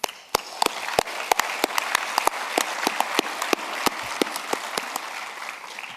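A conference hall audience applauds at the closing ceremony of the ISPO World Congress 2017, a dense, steady wash of many hands clapping, with a few sharper nearby claps standing out throughout.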